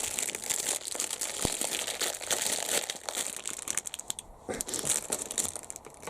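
A model railway kit's packaging being opened up close, with steady crinkling and rustling of plastic and cardboard, plus a few sharper crackles and tearing sounds and no speech.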